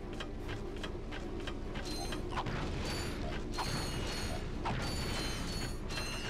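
Mechanical whirring and ratcheting of Magna Boots in the 2002 Ratchet & Clank game, a steady dense clatter of gears and creaks that runs continuously at even loudness with faint tonal chimes on top.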